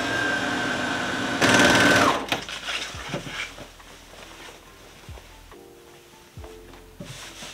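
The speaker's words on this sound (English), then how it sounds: "and I'll sew the side seam." A sewing machine stitches a side seam on patchwork trousers made from scrap fabric, a loud buzzing run of under a second that stops abruptly, followed by quieter handling knocks and fabric rustle.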